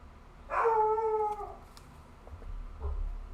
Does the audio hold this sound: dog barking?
yes